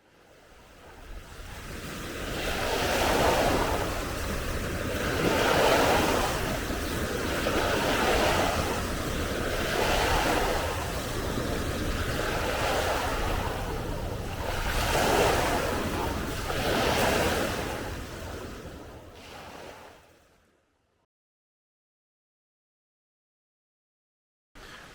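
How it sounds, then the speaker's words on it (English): Rocky Brook Falls in Washington rushing steadily, a loud continuous roar of falling water with gusty wind buffeting the microphone in slow surges, then cutting off abruptly near the end. "So here we are at Rocky Brook Waterfalls."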